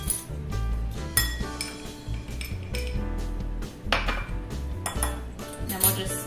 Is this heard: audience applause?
no